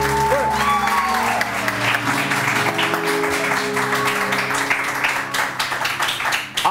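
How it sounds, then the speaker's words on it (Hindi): Studio audience applause fills a television morning show set, a loud, dense burst of clapping that carries on steadily, with a faint music bed and brief voices underneath, tapering off near the end. "आइए जी, तालियां, बहुत सारी"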